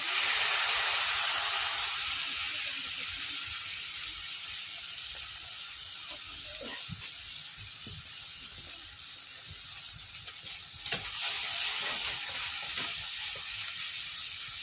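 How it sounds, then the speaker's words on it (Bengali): Poppy seed paste fries in a pan, giving a bright hissing sizzle that eases slightly and then swells again. Occasional soft stirring scrapes sound close by. "এখানে আমি পোস্তটা দিয়ে একটু কষিয়ে নেব।"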